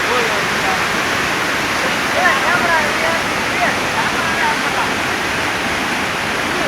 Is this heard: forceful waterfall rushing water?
yes